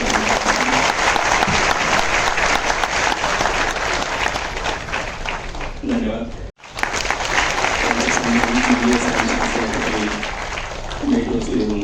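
Sustained applause from a crowd at a Mumbai Police retirement ceremony, loud and continuous, with a brief break in the middle and a voice speaking over the clapping.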